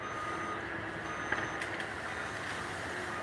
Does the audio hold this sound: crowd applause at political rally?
no